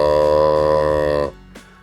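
A deer call blown softly so its reed vibrates, producing a steady buzzy nasal tone that holds for over a second, then cuts off abruptly into near silence.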